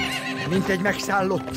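A horse whinnies briefly in a cartoon, a wavering high neigh mixed under someone talking, with a hint of hooves.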